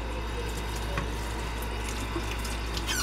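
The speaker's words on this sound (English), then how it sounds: "Let me rinse this out a little bit." Tap water runs into and around a sterilized glass canning jar being rinsed in a sink, a steady close stream with small splashes and clinks under a low hum.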